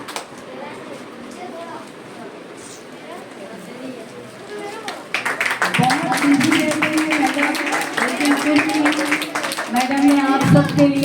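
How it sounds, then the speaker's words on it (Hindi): A seated audience of children and adults at a Brahma Kumaris summer camp gathering at the Indrapuri center breaks into loud, sustained clapping that starts partway through, following someone speaking into a microphone. "और एक बार जोर से करतल ध्वनि तालियां बजाने से हमारा ब्लड का भी सर्कुलेशन होता है ना"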